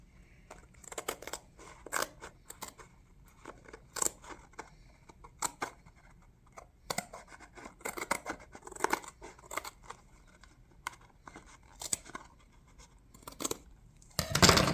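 Scissors trim the overhanging edge of a paper tile made from printed program pages, giving a series of close, crisp snips and scrapes spread irregularly across the clip, with a louder cut at the end.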